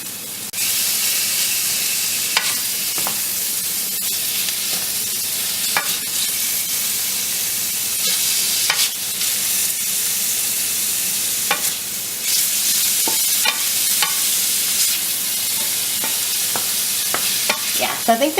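Low-carb chicken fried rice being stir-fried in a pan, a steady loud sizzle with scraping stirs and utensil clicks scattered throughout, no voices.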